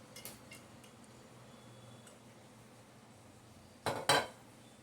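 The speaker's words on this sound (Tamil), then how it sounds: "அடுப்பை பற்ற வச்சு ஒரு பேன் வச்சுக்கோங்க" A metal pan is set down on a stove while idli sambar is cooked in a home kitchen. A soft clink opens the clip, and after a quiet stretch a louder double clatter of metal on metal follows near the end.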